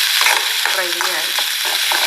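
A pan frying vegetables for upma, a loud continuous sizzle with stirring scrapes, close and unbroken, no voices.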